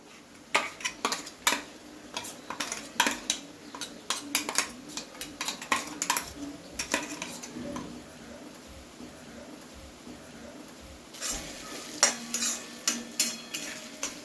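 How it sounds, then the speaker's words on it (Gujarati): A utensil stirs spices into potato and fenugreek sabzi in a pan over a low flame, with repeated scraping clinks of metal on the pan above a gentle sizzle. "મસાલા નાખ્યા બાદ બધું વ્યવસ્થિત આપણે આ રીતે મિક્સ કરી લેવાનું છે"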